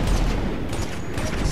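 Gunfire in the video game GTA V, a dense burst of booming shots that fills the whole moment, loud and close, with no talk over it.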